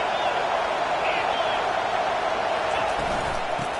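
Dense, steady roar of a college football stadium crowd, loud and continuous throughout, with a broadcast commentator-style setting and faint thumps near the end.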